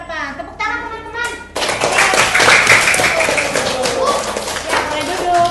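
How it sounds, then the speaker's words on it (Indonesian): Classmates in a school classroom break into lively, dense hand clapping after a voice speaks briefly at the start, the applause continuing loud and close to the end. "Tepuk tangan teman-teman."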